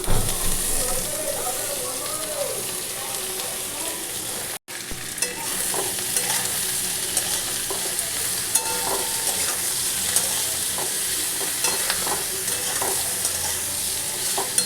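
Cabbage and mixed vegetables sizzle steadily in a pan for a Bengali cabbage chorchori with mourala fish, with occasional stirring scrapes and clinks over a constant close frying hiss.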